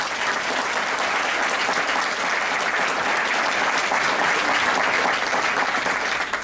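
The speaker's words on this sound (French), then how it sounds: "Déjà, on peut les applaudir." Steady applause from an audience at a heritage awards ceremony in Quebec, a dense sustained clapping that holds at an even loud level throughout.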